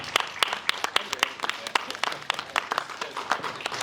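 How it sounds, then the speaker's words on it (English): A town hall audience applauds the Oklahoma State Superintendent candidates, with sharp individual claps standing out over a busy crowd clapping that keeps going across the whole clip. "Let's give all of our candidates a round of applause and thank them for tonight."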